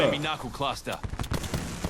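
A Fuse cluster bomb ability fires in Apex Legends, a short volley of sharp, punchy bursts that follows someone talking over the game audio.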